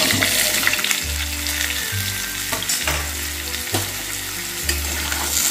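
Cut pumpkin and potato frying in a pan with a pinch of asafoetida, a loud continuous sizzle close by, broken by regular stirring scrapes roughly every second.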